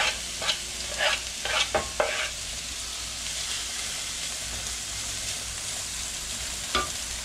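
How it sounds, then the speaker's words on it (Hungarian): Ingredients are sautéed in hot grapeseed oil in a pan, with a steady close sizzle and a few sharp scraping stirs early on, then continuous frying hiss, all without talk. "Felmelegítek szőlőmagolajat, vagy étolaj, bármilyen étolajat, és már is ezeket kicsit meg fogjuk itt dinsztelni"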